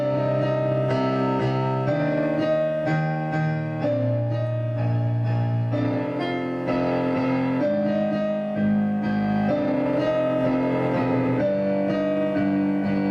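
Piano plays a cover of a piece, with a single note tapped repeatedly in a steady pulse over shifting low chords. It rings close and even, and no one talks over it.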